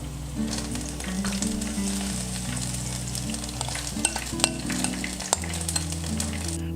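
Potato pakoras fry in a pan of hot oil with a steady dense sizzle and bubbling, broken by a few sharp clinks of a utensil near the end, with no voices.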